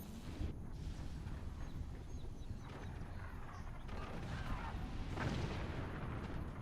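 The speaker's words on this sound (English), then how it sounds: "Those mortars are actually just landing and they're getting kills." Mortar shells land and explode in a video game, producing dense, rumbling booms that roll on continuously with a few sharper bursts, loud and close, with no talking.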